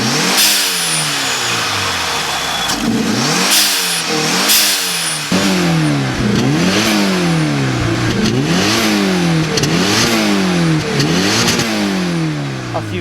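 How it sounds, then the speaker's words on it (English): A first-generation Mitsubishi Lancer Evo RS with its 2-liter turbocharged 4G63 four-cylinder revs repeatedly, loud and close, the pitch rising and falling in a series of throttle blips with rough, raspy exhaust noise. "the 4G63 engine. And because of the rules of rallying, it's a 2-liter turbocharged dual overhead cam 4-cylinder."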